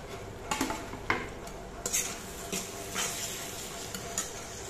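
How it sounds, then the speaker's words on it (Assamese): Chopped tomatoes tipped into a pan of frying masala, with soft sizzling and a few sharp scrapes and clinks of a spoon against the pan, close and fairly quiet, no talking. "এইফালে কাটি থোৱা বিলাহীখিনি ঢালি দিলোঁ।"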